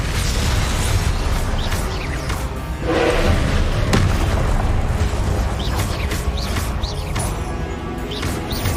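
Fiery Confringo spell blasts from Hogwarts Legacy gameplay, a dense, continuous roar of booming explosions and crashing impacts layered over game music, with sharp bursts standing out around the middle.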